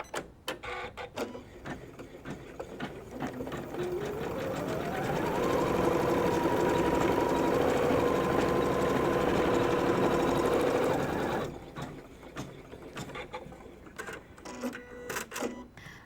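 A sewing machine runs steadily for about eight seconds as it stitches a fusible-backed inner wing fabric piece onto a butterfly tool pouch, with its whirring pitch rising once and clicks and handling noises before and after.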